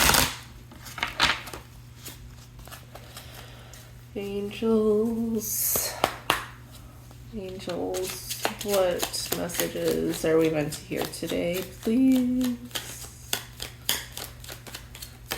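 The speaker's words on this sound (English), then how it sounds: "These are just some nice little angel wishes cards that I like to shuffle 3 times" Crisp, rapid riffling shuffles of a deck of angel oracle cards crackle in several bursts, interleaved with someone speaking softly nearby.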